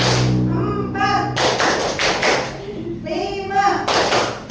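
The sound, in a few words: rhythmic group clapping pattern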